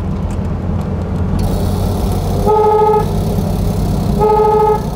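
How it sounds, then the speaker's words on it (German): A 1949 VW Type 18A Hebmüller police car's faulty horn honks twice, a short blare then another about two seconds later, loud over a steady engine rumble with a slightly hoarse, harmonic tone. "glaube, die Hupe ist kaputt."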